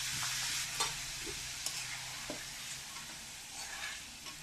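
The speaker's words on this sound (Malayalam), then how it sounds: "അപ്പോൾ നമുക്കിതിലേക്ക് പപ്പടം കുറേശ്ശെ ഇട്ടിട്ട് വറുത്ത് കോരി എടുക്കണം." Pappadams dropped a few at a time into hot oil, frying with a steady close sizzle and bubbling plus occasional light clinks, no voices.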